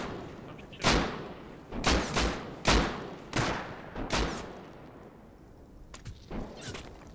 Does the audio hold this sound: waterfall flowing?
no